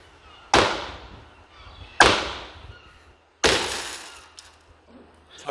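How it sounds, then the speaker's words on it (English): Three sharp, loud hammer impacts on a BMW E91 325d van's passenger window, each followed by a crunching shatter of glass that fades out, spaced over a few seconds. "So we ended up smashing the passenger window."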